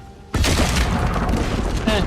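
Dynamite blast destroying a wall in Red Dead Redemption 2, a sudden loud boom that cuts in after a quiet moment and rolls on as a sustained roaring rumble with debris.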